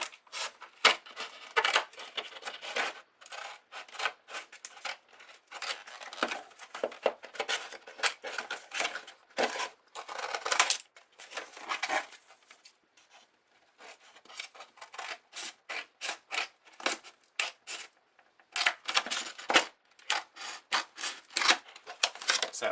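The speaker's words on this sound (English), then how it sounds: "I think I can just come in here with my scissors to cut this." Scissors snip repeatedly through material for a top hat wreath embellishment, a long run of close, crisp cuts in quick bursts with brief pauses between them, no voices.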